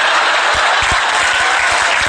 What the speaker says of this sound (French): Arrête d'applaudir, connard.